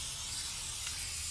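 Spray adhesive hisses steadily from a can onto the foil side of insulation for a van roof, a faint continuous spray with no talking.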